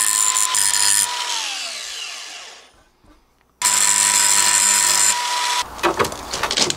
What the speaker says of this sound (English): So I'm going to take my grinder.